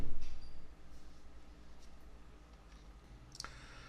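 A computer mouse is double-clicked on a spreadsheet's fill handle, producing a brief, sharp click near the end over faint room noise.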